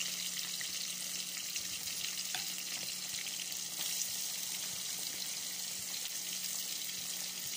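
Fish frying in oil in a home kitchen gives a steady, faint sizzle with a bright, hissing crackle that runs evenly throughout.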